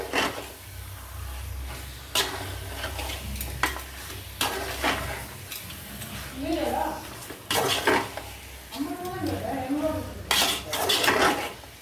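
Chicken being stirred in a cooking pot for a home-style chicken kuzhambu, with repeated scraping clatters of a metal spoon against the pot over a soft sizzle, a few quiet voices in between.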